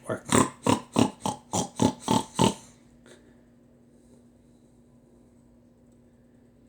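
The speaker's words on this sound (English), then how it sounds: "What sound does the pig make? Oink, oink, oink, oink." A pig grunts and oinks in a quick run of about eight close, loud snorts over two and a half seconds, then goes quiet apart from a faint low hum.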